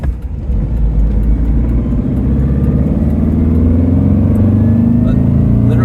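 A 1963 Porsche 356B pulling away and accelerating on the road, its mid-pitched engine note rising into a loud, steady rumbling drone heard from inside the car throughout.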